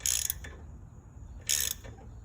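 A ratchet wrench snugs down a valve cover bolt on a Briggs & Stratton single-cylinder engine, giving two short bursts of quick, close clicking about a second apart with a quiet pause between.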